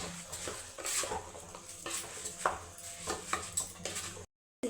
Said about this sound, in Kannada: ಇದನ್ನು ಇವಾಗ ಫುಲ್ಲು ಮಿಕ್ಸ್ ಮಾಡ್ಕೊತಾ ಇದ್ದೀನಿ